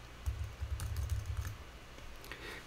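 Typing on a computer keyboard, a quick run of soft key clicks for about a second and a half, then a few scattered taps, close and fairly quiet with no talking.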